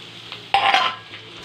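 Chopped tomatoes and green chillies dropped into hot oil, a sudden brief sizzle and hiss that flares loudly, then fades quickly with faint stirring.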